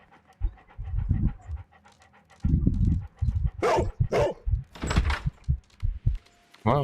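A dog in the Sherlock Holmes: Crimes & Punishments video game pants steadily in quick rhythmic breaths, broken by several sharp, loud barks close up.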